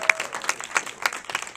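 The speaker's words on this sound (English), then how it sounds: "More applause, yes." A short burst of audience applause, a few distinct hand claps in an irregular patter, moderately close and without speech.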